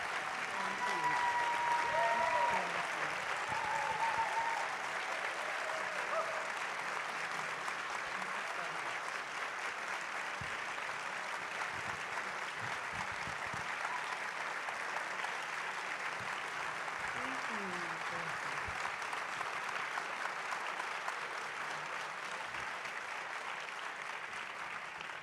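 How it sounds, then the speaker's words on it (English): Long, steady applause from a festival audience in a theatre welcoming a guest onto the stage, a continuous wash of clapping with brief, faint voices mixed in, starting slightly louder and then holding level. "I never step on anyone's applause, so I just waited"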